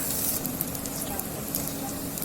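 Steady sizzling of onions and chili frying in a hot pan for Gobi Manchurian, continuous and close, with faint stirring scrapes.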